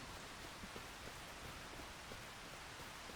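Rain falls in the farming video game Farming Simulator 25, a dense, even hiss of steady downpour that stays constant, with no voices.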